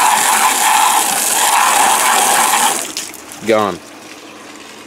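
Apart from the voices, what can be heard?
spraying water on muddy ATV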